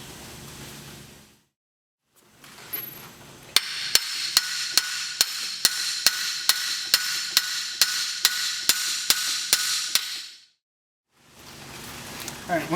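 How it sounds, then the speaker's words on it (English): A 3-pound sledgehammer taps a loaded VW MK4 steering knuckle, with hub and bearing, onto the strut. About fifteen sharp, evenly spaced metallic strikes ring out close up in a steady rhythm, after a short faint stretch and before a pause. "once you get the knuckle onto the strut, you're going to want to finish it off with a 3-pound sledgehammer"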